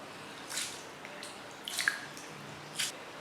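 Wet, squishy bursts and small drips as rice is rubbed and rinsed by hand in water, three soft separate pulses in a quiet room with no talking.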